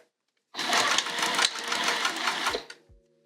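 Sewing machine stitching a bag with Gutermann Sew All thread at a 3mm stitch length, a fast close mechanical whir running for about two seconds after silence, then slowing with a couple of soft clicks.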